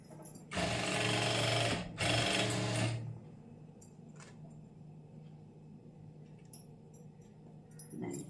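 A new domestic sewing machine runs in two steady, buzzing bursts of a couple of seconds each, close and loud, then stops, leaving a quiet room with a few faint clicks.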